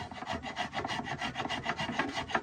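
A hand plane shaving the wooden body of a seven-string lyre, tapering it toward the head: a steady run of rapid rasping strokes, close and even, with no talking.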